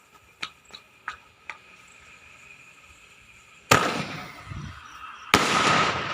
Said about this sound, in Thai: ตอนนี้กำลังจุดพลุครับ